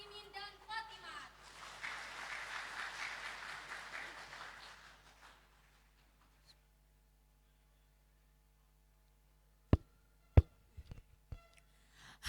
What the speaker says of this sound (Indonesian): beri tepuk tangan yang meriah untuk para khotimin dan khotimat